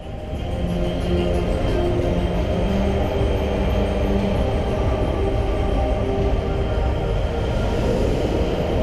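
A long roller coaster train at Bobbejaanland, Belgium rumbles steadily and loudly throughout, with continuous rolling noise and faint wheel clatter and squeal, running close by without pause.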